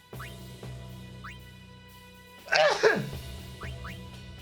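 One abrupt, loud sneeze bursts out in the middle, set against a quiet electronic game soundtrack with faint tones before and after.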